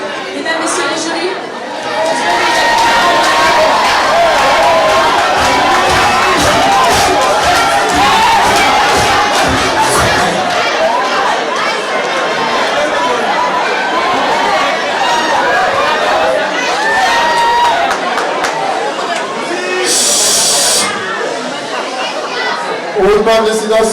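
A loud crowd cheers, shouts and applauds for a contestant at the Miss Est Afric 2015 pageant, a dense, unbroken roar of voices and whoops filling the whole stretch.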